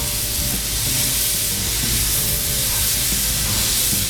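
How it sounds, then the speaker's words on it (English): Rib eye steaks sizzle hard on a Blackstone griddle right after being flipped, a loud, dense, steady hiss close up, with no voices. "Now I'm gonna go ahead and flip these steaks."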